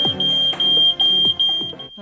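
A photoelectric smoke alarm shrills in a loud, piercing high tone, with short breaks in its sound, close by, over some background noise.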